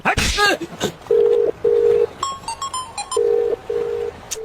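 Four steady electronic phone dialing tones, each held about half a second, sound in two pairs amid light background noise and brief clicks.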